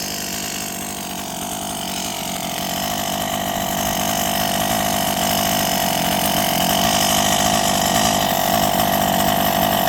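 A Rovan XLT gas engine being broken in and run rich idles steadily for the whole stretch, a loud, constant buzzing drone with a slight rise in level and no talk.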